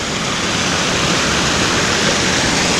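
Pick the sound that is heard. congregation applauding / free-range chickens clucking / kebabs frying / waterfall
waterfall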